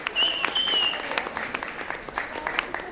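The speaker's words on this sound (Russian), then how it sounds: "аплодисменты за тех, кто море" Concert audience applauding after a song, a steady wash of many hands clapping close by, with a brief whistle and scattered shouts over it.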